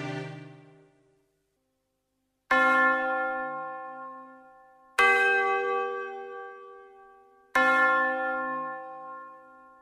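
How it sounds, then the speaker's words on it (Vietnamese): A church death knell tolls at a funeral Mass, three heavy bell strikes spaced evenly a few seconds apart, each ringing out and slowly decaying, following the fading tail of an earlier stroke, with no voices. "Tiếng chuông báo tử ray rứt, xót xa, xé nát cõi lòng người nghe"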